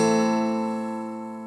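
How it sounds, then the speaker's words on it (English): A single minor chord strummed once on a guitar rings out clearly and slowly fades away, with no talk. "That's just the minor chord."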